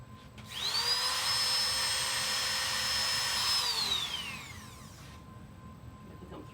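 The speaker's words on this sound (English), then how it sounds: "Okay, so back to the Dremel we go." A Dremel rotary tool cuts into a Dana 44 axle shaft on a Jeep TJ, a loud high-pitched whine that holds steady for about three seconds, then winds down as the tool spins to a stop.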